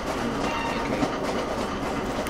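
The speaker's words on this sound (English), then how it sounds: "Oh no, the train's starting to move again." Train rolling along in a video game: a steady, loud rumble of wheels on track with faint clicking, continuous throughout with no talk.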